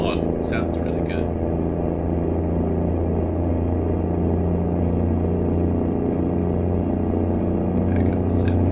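Big rig truck engine with a sound mod in American Truck Simulator, running a 13-speed transmission, gives a steady low rumble throughout. It carries on continuously at cruising speed, with some brief faint higher noises near the start and end.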